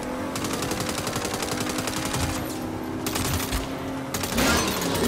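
Gunfire in the video game Saints Row: rapid automatic bursts of close, loud shots firing in a steady rattling rhythm, with a brief lull before more shooting and a heavier burst at the end.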